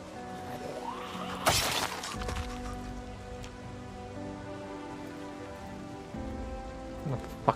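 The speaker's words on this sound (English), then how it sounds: "there's a higher chance to find clay at the moment because it's raining." Steady rain falls in a video game, a constant hiss with a sharp crash or shatter around the second mark and a few brief knocks near the end.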